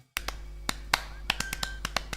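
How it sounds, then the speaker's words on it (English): Sparse, sharp claps arrive at uneven intervals as a small round of applause for the production crew of a robot talk show, fairly faint over a constant low hum. "Let's have a big round of applause for my production crew."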